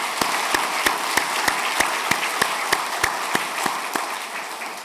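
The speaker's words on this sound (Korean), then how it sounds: "큰 박수로 환영하겠습니다." Welcoming applause from a church congregation during a Sunday service, a broad hiss of many hands clapping, with sharp rhythmic claps standing out in a steady beat, as if some clap in time.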